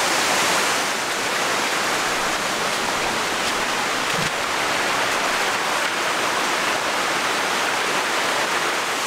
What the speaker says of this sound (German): Ja, noch einen Wasserfall haben wir.